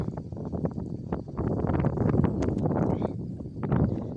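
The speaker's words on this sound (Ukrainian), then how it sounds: "А вітер з півночі горний такий." Gusty, cold north wind blows across a vegetable garden, a rough, roaring rush that rises and falls, with rustling and buffeting close to the microphone.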